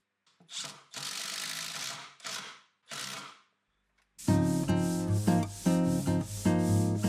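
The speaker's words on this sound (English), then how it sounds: "After a final sanding by hand" Four rasping strokes of sandpaper rubbed by hand across wood, each a short scratchy burst with pauses between, then music starts up.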